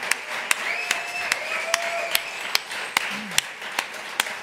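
At a public presentation in Vitoria, an audience claps in an even rhythm, about a dozen crisp, evenly spaced beats over a soft background murmur.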